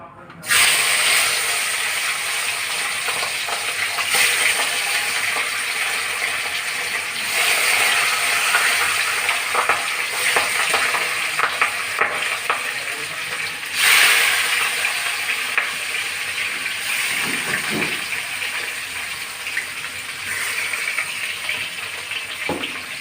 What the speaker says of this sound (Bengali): আমি মাছটা দিয়ে দিচ্ছি